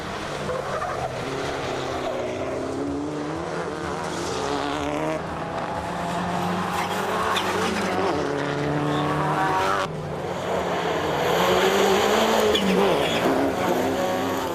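Race cars in a circuit motor race, engines roaring and whining past in sweeping passes with tire squeal, loud and continuous with a near-miss crash toward a trackside camera.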